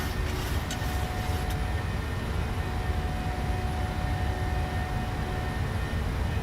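Airliner engines at climb power in Microsoft Flight Simulator, a steady, loud broadband roar that holds constant throughout with no talking.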